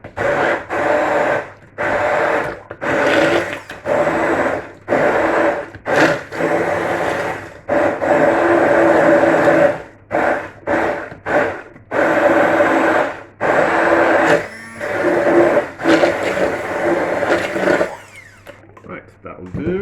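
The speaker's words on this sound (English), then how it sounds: "and turn the blender on, obviously." A kitchen blender purees frozen mixed berries in loud whirring bursts that repeatedly start and stop, close up, with brief pauses between pulses and no talking.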